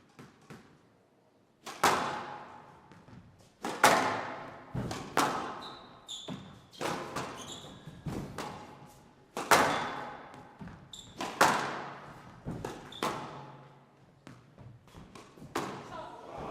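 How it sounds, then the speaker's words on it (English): Squash ball struck hard in a professional women's match at the London Classic 2024, ending on a drop shot: sharp racket hits and front-wall thuds ring out in a fast irregular rhythm, echoing in a glass-walled court, with faint squeaks of shoes between strokes. "Just dropped down, and it's a lovely, lovely drop shot."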